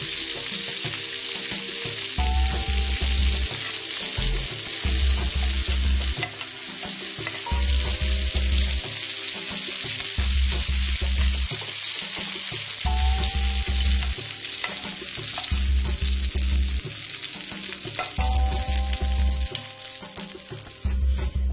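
Shallots fry in about a teaspoon of bacon fat in a pan, giving a loud, steady, close sizzle that runs the whole time over a repeating low thumping pattern, with no voices.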